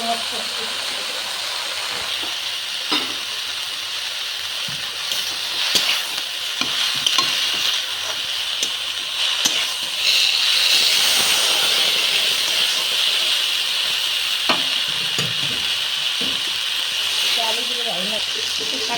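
Kalmi greens (water spinach), freshly picked from a pond, fry and sizzle steadily in a pan with a broad hiss, with scattered stirring scrapes and clatters and a louder, denser sizzle partway through; no one speaks.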